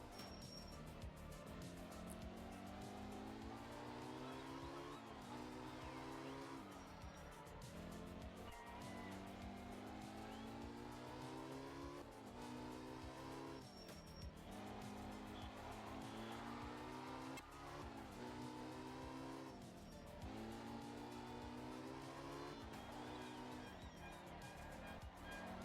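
Porsche rally car racing flat out along a tarmac stage in a video game, engine howling continuously with repeated rising revs and gear shifts, tires squealing through corners, loud and close with no voices.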